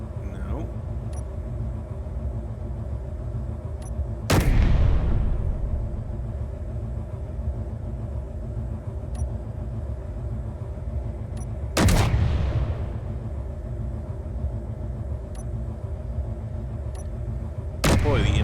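Turret gunfire in the Space Engineers video game, three loud bursts spaced several seconds apart, each with a sharp onset and a fading tail over a steady, droning engine-like rumble.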